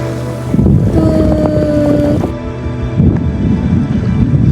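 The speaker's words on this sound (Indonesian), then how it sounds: "Nih ombaknya hari ini tenang banget seperti biasa." Calm sea waves wash steadily in loud, broad surf noise with a rushing wind-like texture and faint tonal hums, swelling again near the end; no voices.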